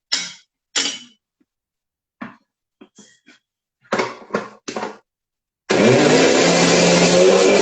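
A mixer grinder blending an oil mixture starts after a run of scattered clicks and knocks, then roars at a loud, steady whirring pitch for the final two seconds, close and alone.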